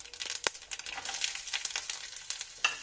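Green chilies sizzle in hot oil with whole cumin seeds, a steady crackling fry broken by sharp spits and bursts as they're stirred, close and fairly quiet with no voices.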